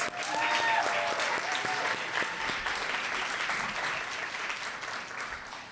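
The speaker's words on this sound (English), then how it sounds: "I just want to stop and give them a round of applause." An audience at a Wear Red Day foundation event applauds the staff, continuous clapping that swells early and then tapers gradually, with a few voices mixed in at the start.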